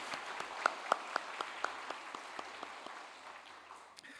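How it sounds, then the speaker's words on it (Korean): A church congregation applauds during a Sunday worship service: soft, scattered hand claps from a distance that thin out and fade within a few seconds. "박수로 격려하겠습니다."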